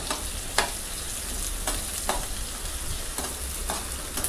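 Spices and matki (moth beans) are stirred in hot frying oil: a steady close sizzle with a scrape of the spoon against the pan every second or so, and no talking.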